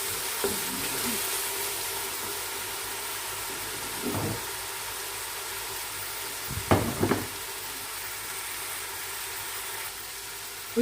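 Whole spices, big and small cardamom, fennel and bay leaves, frying in hot oil for a pulao biryani, a continuous close sizzle with a few louder stirring scrapes.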